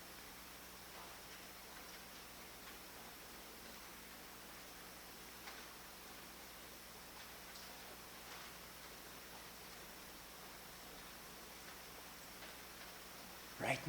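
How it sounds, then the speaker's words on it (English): Steady soft rainfall outdoors during an August 1993 retreat, a faint continuous hiss with occasional tiny drips and taps and no talking. "Right now, just listening to this rain"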